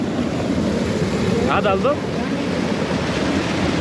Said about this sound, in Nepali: यहाँ चाहिँ यस्तो दामी यस्तो सफा पानी आइरहेछ क्या